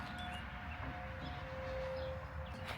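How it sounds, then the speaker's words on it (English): A steady tornado siren tone drones at a distance during a storm over a constant low rumble of wind or traffic, holding one pitch throughout. "that's a tornado siren"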